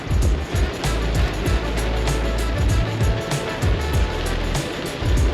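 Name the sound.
heavy rain beating on a truck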